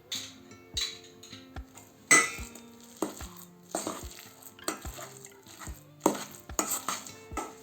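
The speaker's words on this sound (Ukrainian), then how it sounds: "Заправляємо майонезом та перемішуємо." A spoon stirs and scrapes a garlic and homemade mayonnaise filling in a bowl, irregular clinks and knocks against the sides repeating every half second or so, close and alone.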